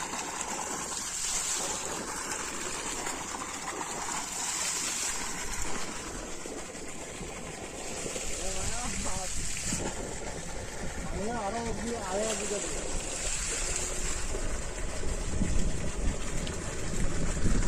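Water gushes steadily from a 5 hp solar water pump under heavy overcast skies, a constant rushing wash running throughout. People talk over it in the second half.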